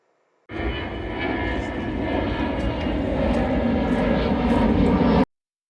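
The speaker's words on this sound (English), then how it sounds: "planes going straight over the warm-up area, the actual course itself." An airplane passes low overhead near Manchester Airport at a cross-country riding competition, a loud, steady engine roar that rises slightly and then cuts off abruptly, with no voices.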